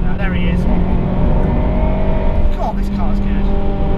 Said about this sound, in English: So an impromptu Fn2 race we've got going on right now.